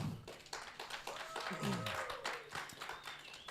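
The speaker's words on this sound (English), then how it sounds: "let's give them a big round of applause" Scattered clapping and tapping from a small crowd, fairly faint and a bit distant, with voices and other noise mixed in.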